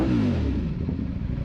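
A Ducati V4 motorcycle engine revs up briefly, a loud close rising growl that settles into a rough, throbbing rumble.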